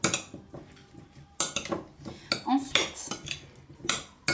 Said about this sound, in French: Tout en mélangeant bien.